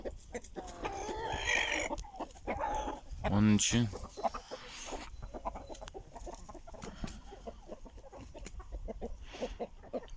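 Aseel chickens cluck close by, with a young rooster among them letting out a brief, strained crow-like call in the middle, while a person talks intermittently over the flock's scattered clucks.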